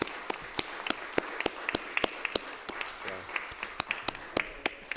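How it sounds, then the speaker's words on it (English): Sparse, sharp hand claps ring out in a legislative chamber for the Speaker, a faint, fairly regular patter of individual claps with a brief murmur of voice midway. "Let's give the Speaker a round of applause."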